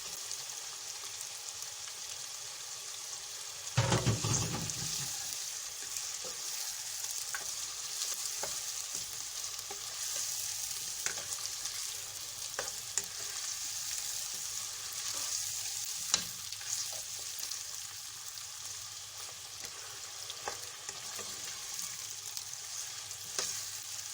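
Chicken frying in a pan with onion, garlic and ginger, a steady loud sizzle throughout, a brief louder burst near the start as it's stirred, then occasional soft scrapes.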